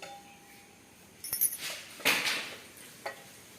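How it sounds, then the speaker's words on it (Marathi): Kitchen pots and utensils being cleaned for Diwali give a few scattered metallic clinks and clatters, close by in short bursts against a quiet room. "एवढे भांडे आता एवढे क्लीन करायचे"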